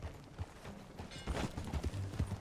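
Horse hooves clip-clop in a steady rhythm while riding in the video game Red Dead Redemption II, moderately close and fairly quiet, with low rumbling ambience and no talk over it.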